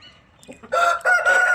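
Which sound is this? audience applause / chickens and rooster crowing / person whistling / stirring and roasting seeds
chickens and rooster crowing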